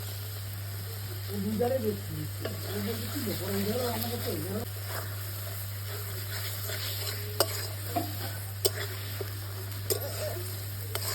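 Chicken masala sautéing with Kashmiri chili powder in a pan, a steady sizzle with scraping stirs throughout, a constant low hum beneath, and a voice talking briefly early on.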